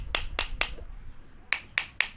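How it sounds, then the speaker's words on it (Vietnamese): A hammer taps a bushing into a fan motor, six sharp metallic knocks in two groups of three separated by a short pause, close and quiet. "nên mình lấy cái búa dặn nữa nha"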